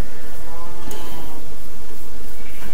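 A sheep bleats in a video game, one faint short bleat heard under a loud, constant noisy background.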